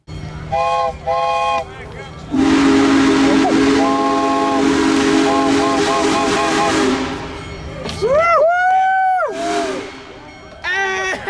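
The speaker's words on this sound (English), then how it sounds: "heard the shrill whistle in the distance" Union Pacific Big Boy steam locomotive sounds its shrill multi-tone whistle in repeated blasts, loud and sustained, with a crowd cheering and shouting over the later part.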